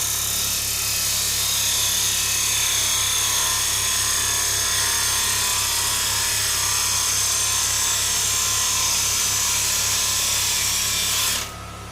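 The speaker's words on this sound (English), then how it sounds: "So if I turn the speed of the lathe up, so we're at 2000 RPM now." A wood lathe spins a bowl blank at 2000 RPM, giving a steady, loud mechanical whine and hum that runs unbroken near the mic, then cuts off abruptly near the end.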